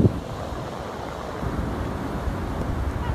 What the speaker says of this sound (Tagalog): Ang lalaki ng alon, oh.